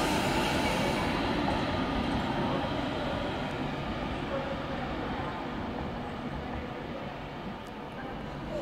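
An Alstom Pendolino train at London Euston on the West Coast Main Line gives off a loud, steady rumble and roar that fades slightly over the seconds, with no clear voices.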